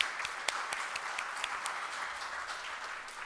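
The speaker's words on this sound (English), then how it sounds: "So I definitely want to give them a round of applause." Conference attendees give a sponsor a warm round of applause, with dense, continuous clapping from a sizable audience holding steady at moderate loudness before easing slightly toward the end.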